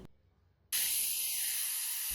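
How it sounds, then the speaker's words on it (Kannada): A pressure cooker holding vegetable pulao suddenly releases steam in a loud, steady hiss after a brief quiet moment, with a faint whistling tone under it for about a second and a half. "ಇವಾಗ ಕುಕ್ಕರ್ ಲಿಡ್ ಕ್ಲೋಸ್ ಮಾಡಿ ಟೂ ವಿಸಿಲ್ಸ್ ಕೂಗಿಸಿ"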